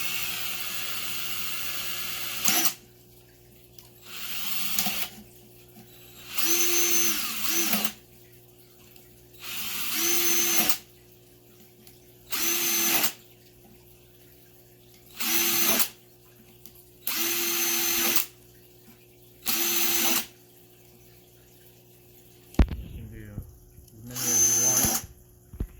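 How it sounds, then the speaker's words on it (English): A power drill bores holes into the top of a plastic water bottle for a DIY aquarium sand filter, eight short bursts of whining drilling separated by quiet pauses, close and loud, with a final rattling burst at the end. "now you gotta drill holes for the water to come out on the top of the bottle"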